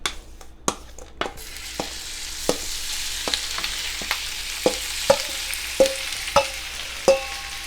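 Shrimp seasoned with taco seasoning sizzle with a steady hiss in a hot pan, broken by repeated scraping clicks as they are stirred and moved around.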